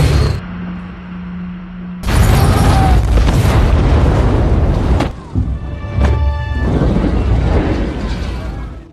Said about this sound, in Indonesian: Tembakan itu juga mengenai tabung gas yang telah Pete geserkan